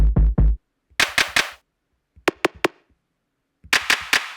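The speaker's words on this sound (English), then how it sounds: "I've grabbed a fresh drum kit" Punchy drum hits play in short bursts separated by silence: deep kicks, then snappy snares and bright cracks, each burst a quick cluster of sharp strikes.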